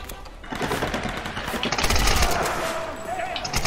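Sustained automatic gunfire from a Tomb Raider video game firefight, dense and continuous throughout at close range, with a player talking over it.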